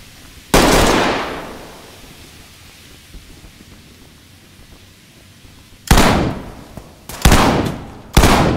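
Sharp gunshots from the tactical shooter game Ready or Not, one loud report early, then a quiet stretch, then three more blasts in quick succession near the end, each loud and close with a decaying tail.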